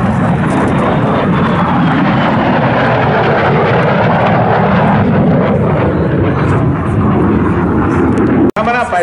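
Display aircraft at an air show roars loudly and continuously overhead, a broad engine rumble with an announcer speaking over it.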